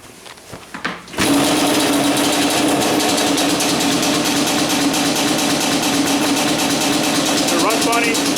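A Yamaha Banshee ATV engine, which has a fault, cranks and catches, then keeps running with a steady, buzzing, uneven idle close to the microphone.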